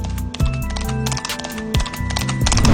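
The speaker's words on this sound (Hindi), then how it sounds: "ये लड़का घोड़े पर बैठकर डिलीवरी देने के लिए जा रहा है।" Horse hooves clip-clop steadily as a boy rides the horse through a street on a delivery run, the hoofbeats close and fairly loud over busy background sound with music-like tones and no talk.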